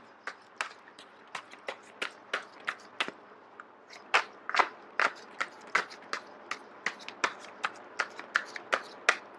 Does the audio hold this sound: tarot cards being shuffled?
yes